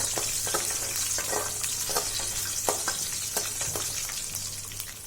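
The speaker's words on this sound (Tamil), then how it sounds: "1/2 ஸ்பூன் கடுகு, 1/4 ஸ்பூன் வெந்தயம், 3 மிளகாய், ஒரு 10-15 பல் பூண்டு சேர்த்து நல்லா வதக்கிக்கலாம்" Garlic cloves, mustard seeds, fenugreek and dried chillies sizzle steadily in hot oil for a Tamil vathal kuzhambu, with a constant close frying hiss broken by occasional stirring scrapes and crackles.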